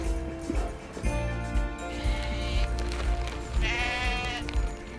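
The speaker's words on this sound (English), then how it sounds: "Here we have the slightly older orphan lambs that are out to grass" Orphan lambs out at grass bleat repeatedly, several overlapping calls near and loud, with a steady outdoor background and no talking.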